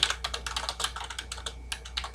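Fast typing on a computer keyboard while entering text into a flowchart program, a quick, close, irregular run of light plastic key clicks.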